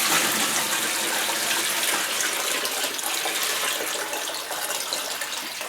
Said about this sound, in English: we can go ahead and top up our sink water